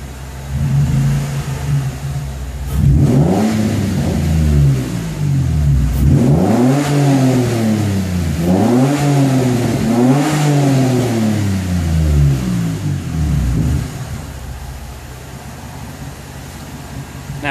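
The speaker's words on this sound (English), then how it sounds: "We'll give you a rev from outside the car." Nissan 350Z with a new true dual exhaust revved from outside the car, four or five sharp blips that climb and fall back to a burbling idle, loud and close.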